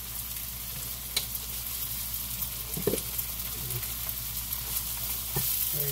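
Seasoned mahi mahi sizzles steadily in a pan while a gray plastic spoon stirs it, with soft scraping and a few light knocks over the constant close frying hiss.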